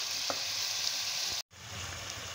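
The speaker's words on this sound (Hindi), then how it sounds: "ये प्याज ना मैं ना गलने के लिए रख दूँ, ये मैंने तेल भी डाल दिया।" Continuous hissing sizzle of onions frying in oil, close and steady, briefly cut to silence for a moment before resuming; no one speaks.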